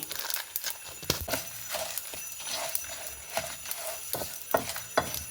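Dry coriander and cumin seeds roasting in a pan for a fresh-coconut chutney powder, with irregular light crackles, pops and scraping stirs repeating close by, no speech.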